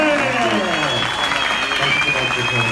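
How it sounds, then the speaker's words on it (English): Applause for hockey goaltender Henrik Lundqvist fills an event hall, loud crowd clapping with whistles and cheering voices mixed through it. "Ladies and gentlemen, big round of applause for"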